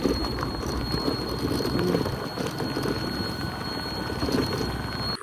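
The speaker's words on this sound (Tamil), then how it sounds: "இப்போ மழை ரொம்ப அதிகமாக போய் ஆரம்பிச்சிச்சு மக்களே" Heavy monsoon rain pours over the Kodaikanal hills in a dense, steady roar that never lets up, with a thin high whine running faintly above it.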